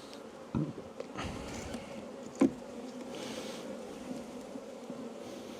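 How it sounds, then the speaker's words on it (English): Caucasian honey bees drone steadily around an open hive during an apiary inspection on a very hot day. The low, continuous buzz holds throughout, with a couple of brief knocks, and no one speaks. "Lots of young emerged and emerging Caucasian bees on there."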